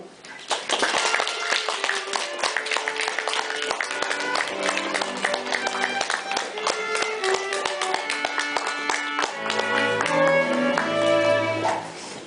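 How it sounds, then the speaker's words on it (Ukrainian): A crowd gives loud applause to greet the bride at a wedding registration ceremony, many hands clapping steadily and densely throughout, with music playing underneath. "Тож гучними оплесками зустрічаємо щасливу обранницю нашого Михайла, неперевершену наречену Крістіну."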